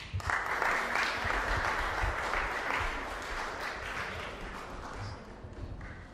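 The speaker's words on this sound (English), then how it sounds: "Please let's give him another round of applause" Audience applause at a human rights day commemoration event, a steady, dense wash of clapping from a sizable crowd that holds for several seconds and slowly tapers off.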